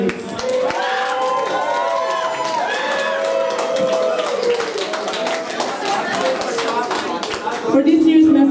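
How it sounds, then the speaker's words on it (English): A crowd at a science-fiction convention masquerade in Zagreb applauds the contestants with steady clapping and cheering, while voices carry over the clapping throughout. "I think a big applause for all the contestants."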